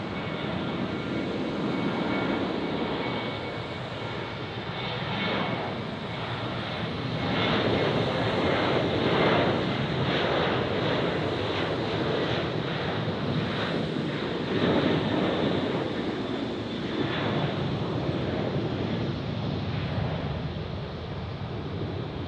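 A Southwest jet airliner lands at Tampa International Airport, a broad, steady roar of jet engines that swells in the middle and then eases, heard from a distance with wind noise and no talking.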